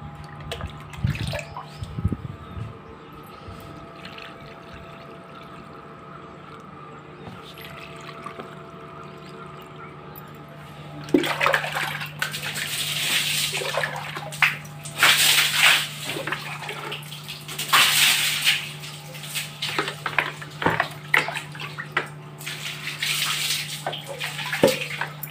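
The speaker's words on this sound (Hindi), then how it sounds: "आज पाइप लगा के नहीं बाल्टी से ही पानी डालूंगी" Water from a bucket is splashed onto a set of home stairs in bursts of pouring and sloshing, fairly close, over a steady background hum, with no one talking.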